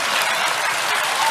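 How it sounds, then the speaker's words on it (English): Studio audience applause from a late-night comedy show, a dense, steady wash of many hands clapping at close range, continuous and loud throughout with no break. "The whole audience is applauding and going crazy"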